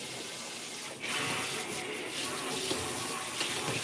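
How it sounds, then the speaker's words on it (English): Cold mountain water runs into a container, a steady hissing, splashing flow that grows fuller after about a second and continues close by without talk. "Then I'll run a little bit of extra water in here."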